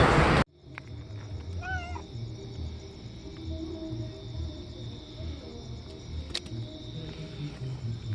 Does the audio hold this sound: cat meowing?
yes